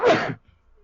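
A single short, loud sneeze burst close by, cutting off abruptly into near silence.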